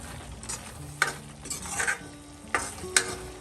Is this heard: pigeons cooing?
no